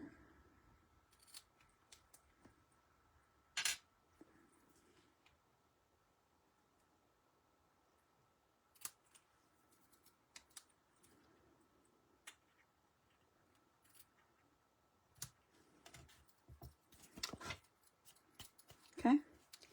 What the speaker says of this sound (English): now I'm going to trim my edges